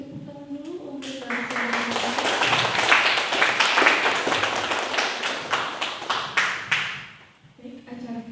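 An audience at a university library visit gives a round of applause, rising quickly into dense, close clapping that swells, then tapers off and stops, with a voice speaking just before and after.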